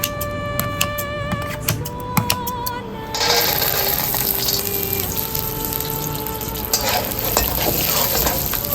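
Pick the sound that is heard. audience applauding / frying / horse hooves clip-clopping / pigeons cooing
frying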